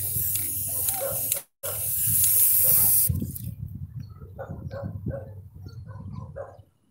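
White spray paint hissing from a can onto the roof of a cargo van, a long steady spray that breaks briefly, then quieter spurts, with a voice talking softly in the background.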